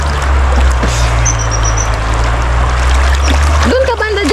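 Water splashes and trickles in a cool outdoor stream or shallow pool where someone is bathing, a steady wash of low rushing noise with occasional splashes while a voice speaks near the end.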